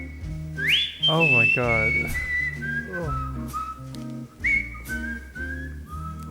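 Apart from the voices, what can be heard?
whistling in a recording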